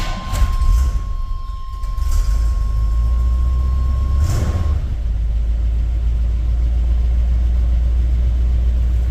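A Squarebody pickup truck's engine rumbling loud and close as it starts out of the shop, a steady low drone with a thin warning chime in the first half and a couple of soft clunks.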